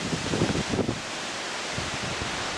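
Strong wind from the March 1993 storm roars in a steady, dense rush outdoors, with gusty rustling swells in the first second over a constant blustery wash.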